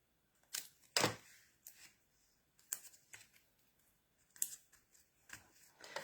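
A few crisp, snipping cuts from scissors or shears come in separate bursts against quiet, with small rustles between them.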